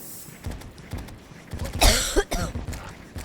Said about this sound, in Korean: 아 갑자기 왜 이렇게 기침 나냐